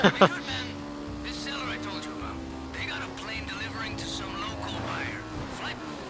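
A motorcycle engine in the video game GTA 5 drones steadily with a fairly even pitch and a slight rise near the end, preceded by two sharp bangs.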